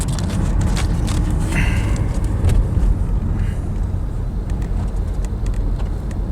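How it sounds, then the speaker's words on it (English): Mercedes-Benz C230 Sport driving on a highway with an engine that stutters under acceleration, heard from inside the car as a loud, steady road and engine rumble with faint irregular ticking over it. "So I gave it a little bit of gas back here and it started stuttering."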